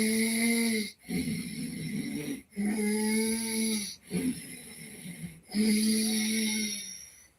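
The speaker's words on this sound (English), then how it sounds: "You will get one kind of sound, snoring sound." Snoring-like breathing from Bhastrika pranayama, loud and close, with four forceful rasping breath cycles separated by brief pauses, no talking.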